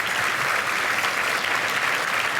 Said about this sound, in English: Please acknowledge them with a round of applause as well.